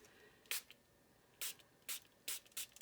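Water is sprayed onto watercolor paper in five short, quiet bursts from a spray bottle, each a soft airy hiss separated by brief pauses, close but faint.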